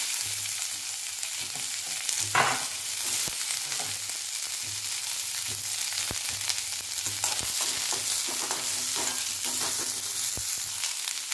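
Chopped onion frying in oil in a pan, a continuous close sizzle broken by occasional scraping stirs, with no talk.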